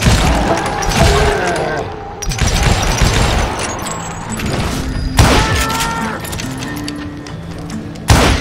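Gunfire erupts in the Wild West shooter Call of Juarez Gunslinger, loud repeated shots and impacts among clattering action and game voices.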